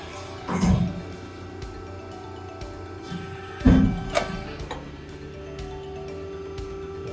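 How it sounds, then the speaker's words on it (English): A press brake bends a cut sheet metal part in a fabrication shop, giving two loud, short mechanical thuds a few seconds apart with a faint clack after the second, over a low steady workshop hum and no talk. "now I'm ready to bend up one of my parts that I cut"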